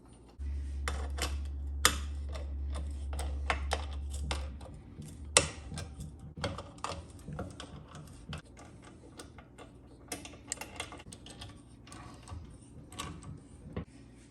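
Head bolts on an air compressor engine are threaded back in by hand, giving faint, close metallic ticks and clicks of tools and parts, irregular and scattered, over a low steady hum for the first few seconds.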